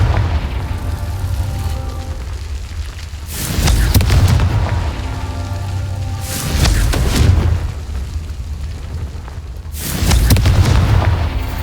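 Three heavy blasts from the Confringo curse in Hogwarts Legacy, each a deep booming explosion with a crackling tail, spaced a few seconds apart over a low ambient game background.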